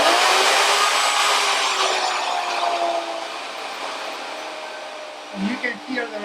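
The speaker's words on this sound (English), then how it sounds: "you can hear the router slowing down" Router on a universal variable speed control winding down: a loud, high motor whine drops steadily in pitch and volume over several seconds, with brief speech breaking in near the end.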